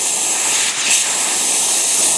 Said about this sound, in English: Every time you steam the milk, we need to flush the steam